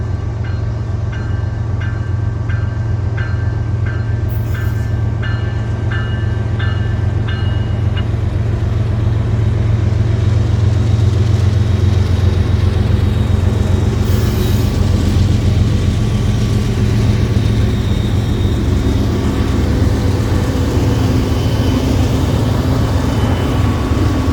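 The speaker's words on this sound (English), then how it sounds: "catch NS 286 rolling through Elko siding" Norfolk Southern freight NS 286 rolls through Elko siding in Alabama, a loud, continuous rail rumble lasting throughout, with high ringing tones early on and no talking.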